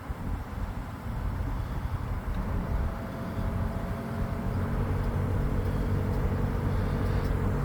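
The air suspension on a lowered Lincoln LS inflates to raise the car, a steady low droning hum with a faint whine holding level throughout.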